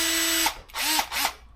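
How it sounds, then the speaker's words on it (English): Small compact Milwaukee handheld drill runs with a high steady whine, stops, then spins up in two more short bursts that rise and fall in pitch, close and loud. "this is my favorite handheld little drill for detailing stuff. Super small, compact, Milwaukee"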